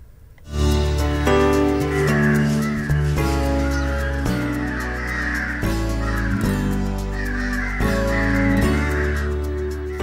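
Crows cawing from a house rooftop where hundreds gather daily, a loud, close, continuous chorus of overlapping harsh calls with no one speaking.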